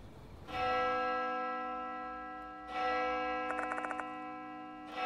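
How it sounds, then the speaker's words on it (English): Eerie bell tolling in the horror game Death Mark 2: two sustained metallic strikes with long ringing overtones, the second joined by a fast shimmering chime flutter, alone with no voices. "That bell again."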